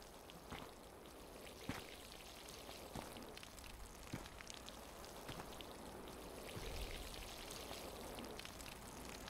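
Plants being watered in the video game Clap Clap, a soft, steady patter and trickle of pouring water with scattered droplet taps, faint and continuous with no talking.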